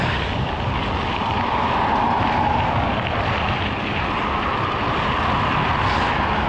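Steady, loud headwind roar buffets the microphone throughout while riding a Bafang BBS02-powered Specialized e-bike down Old Highway 69, a continuous broadband rush with no voices.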